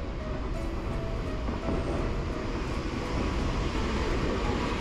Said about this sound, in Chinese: 江之电铁，从镰仓站搭到江之岛站6号